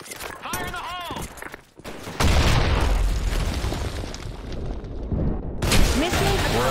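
A grenade blast in a first-person shooter on a Power Plant map is a sudden booming burst followed by a sustained rumbling roar, with voices and game sounds around it.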